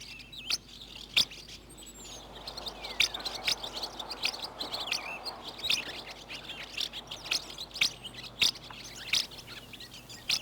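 Swallows and house martins calling and twittering around a muddy puddle in the countryside, a steady run of quick chirps and tweets, some close and some farther off, over soft outdoor background noise.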